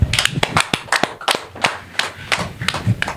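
A group of people clap their hands in an uneven, scattered burst of sharp, loud claps that come close together and then thin out, with no talking.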